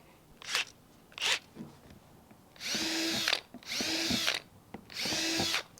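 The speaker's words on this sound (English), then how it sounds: "you'll notice that I'm not drilling in any particular pattern" A power drill whirs in short bursts, making 1/8-inch holes in a plastic worm bin: two quick pulses, then three longer drilling runs biting through plastic, close and distinct, with no talking.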